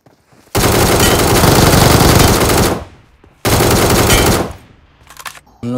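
Loud sustained automatic gunfire in PUBG Mobile, two long bursts separated by a short pause, then a brief quieter burst near the end, with no talking.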